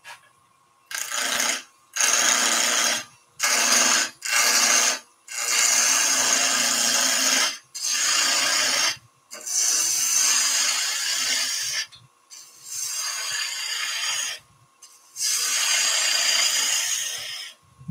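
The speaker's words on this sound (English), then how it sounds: "So I'm going to go with a small bowl gouge to rough down to cylinder." Small bowl gouge roughing a wood blank down to a cylinder on a spinning lathe, a loud, steady rasping cut repeated in about nine bursts with brief pauses between passes.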